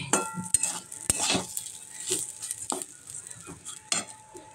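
Pilaf rice being stirred in a pan over heat, a spoon scraping and clinking against the metal in irregular strokes over a soft sizzle, close and fairly quiet.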